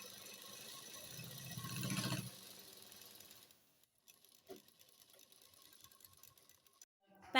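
Sewing machine stitching trouser fabric, a short whirring burst of stitching that stops after about two seconds, followed by quiet rattles and handling clicks.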